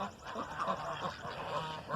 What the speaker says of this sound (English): Of course, my silly ducks.